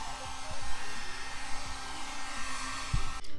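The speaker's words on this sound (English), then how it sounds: "So I got the heat gun connected to like an outdoor extension cord that's going up into the house" Heat gun on an outdoor extension cord warming the paint and vinyl wrap on a G35 fender, a steady airy fan-and-heater hum, fairly quiet and close, with faint handling thumps underneath and no talking.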